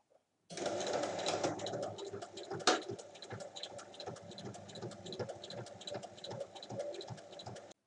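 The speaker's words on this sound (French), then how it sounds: "il faut piquer sur 3 côtés" A sewing machine stitches along three sides of a fabric pouch in a quiet room, a soft, rapid, even whir of needle ticks that starts after a short pause. One louder knock comes early on.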